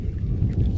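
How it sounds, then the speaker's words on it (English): Thunder rumbling during an outdoor storm, a deep continuous low roll that fills the whole moment at steady loudness with no voices over it. "Oh, that's some thunder."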